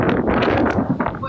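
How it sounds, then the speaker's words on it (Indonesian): Strong wind buffets the microphone outdoors, a loud, gusty rumble that surges and dips throughout. "Kene angine buanter"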